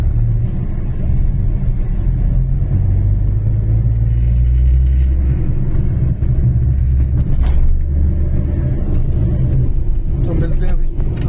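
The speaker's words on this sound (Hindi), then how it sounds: "सो आज देखो कितना जाम है यार, बहुत जाम है भाई आज छतरपुर में" Congested road traffic in a jam in Chhatarpur, a constant low rumble of idling and creeping engines with a few brief louder passes, close and continuous, with people talking over it.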